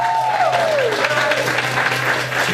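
Applause at a Newark community assembly meeting greets Councilwoman LaMonica McIver, a steady wash of clapping from the room with a faint voice briefly audible over it.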